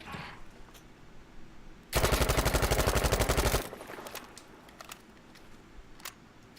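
A sustained burst of automatic gunfire on a shooting-range lane in Battlefield V, a loud, rapid, evenly spaced stream of shots lasting under two seconds, with quieter ambient clicks before and after.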